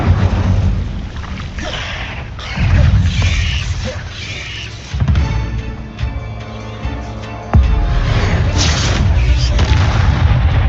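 Fiery spell blasts from the Incendio fire spell in Hogwarts Legacy, cast as heavy booming whooshes in a few loud bursts over a rumbling game backdrop.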